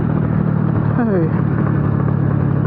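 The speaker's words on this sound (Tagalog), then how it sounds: "Engine brake." A Kawasaki W175 SE motorcycle engine braking gives off a steady, close, loud low rumble with an even throb throughout, and a brief falling whine passing over it near the middle.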